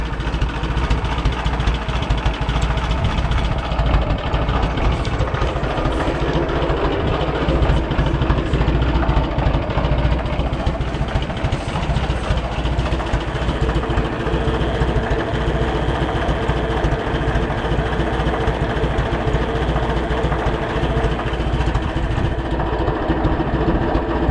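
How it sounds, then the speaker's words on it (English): An Oliver 660 tractor engine, freshly fueled with new gas, idles low in a steady, loud, continuous rumble for the whole stretch, with no talking over it. "Definitely running better with some fresh gas in it. See how low she'll idle."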